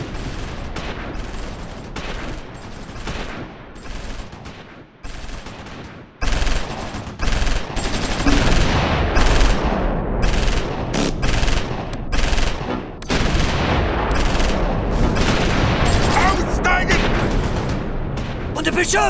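Close Combat 4 battle at Assenois in the Battle of the Bulge: dense bursts of gunfire and heavy booms crackle almost continuously, loud and close, with a brief lull midway before the firing intensifies again.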